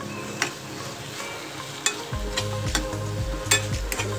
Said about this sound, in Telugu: టమాటా బాగా మగ్గుతుంది